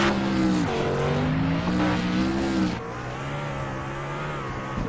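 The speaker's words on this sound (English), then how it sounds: "as this is O2 machine doing donuts in the grass on the front stretch here" A race car spins donuts in the grass on the front stretch at Charlotte under the lights, engine revving hard in rising and falling bursts with tire scrub, loud and close throughout.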